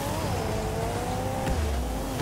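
A rocket-powered car in the video game Rocket League drives with a steady, loud engine drone whose pitch slides slightly, with a brief thump midway, no talk over it.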